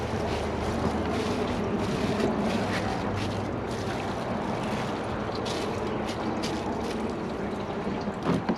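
A 2015 Kohler Cimarron toilet flushing a grocery bag and a microfiber rag gives a loud, close, continuous rush of water that swirls steadily before gurgling near the end.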